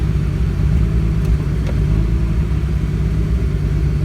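A BMW E90 car engine idles steadily up close after downpipe work, a constant low rumble with no change in pace.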